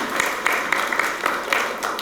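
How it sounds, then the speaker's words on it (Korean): Audience applause at a city mayor's speech on Sejong City's second-anniversary achievements, moderate and somewhat distant, with scattered sharper claps rising out of a steady patter. "박수 한번 쳐주세요"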